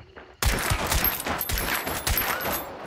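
Gunfire in the video game Hunt: Showdown erupts suddenly into a rapid burst of loud, close shots with echoing tails, several sharp reports in quick succession.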